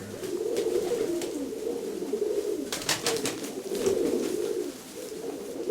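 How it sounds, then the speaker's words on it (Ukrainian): Ornamental pigeons and doves coo in a steady, murmuring series of low throaty calls, close and continuous, with a few brief sharper sounds midway. "от оце голуби, а то голубки, голубки, голубки"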